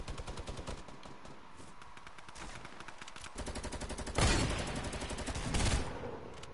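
Rapid game gunfire crackles in steady bursts, with louder, denser volleys partway through; the exact hunting rifle cannot be told apart.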